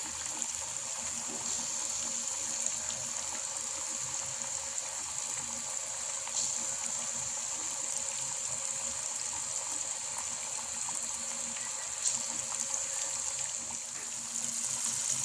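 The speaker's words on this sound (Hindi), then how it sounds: "दरमियानी आंच पर आपने इनको फ्राई करना है।" Zinger burger chicken pieces frying over medium heat in a wok, a steady, even, moderately faint hiss of bubbling oil throughout with no talk.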